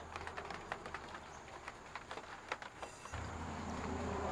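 Rain falls steadily outside a car workshop, a soft continuous patter with scattered louder drops and taps, fairly faint and distant, with a low hum joining in partway through.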